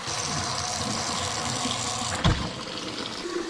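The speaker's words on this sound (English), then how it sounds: "Just dump them into a strainer here with cold water running." Cold water runs steadily from a kitchen tap over redfish in a strainer, a loud continuous gush with a brief knock partway through and no talk.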